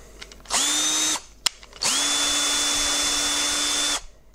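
A power drill whirs up briefly, stops with a small click, then spins again for a longer steady burst before winding down, drilling a hole for a 3D printer Z-brace upgrade. Close and loud.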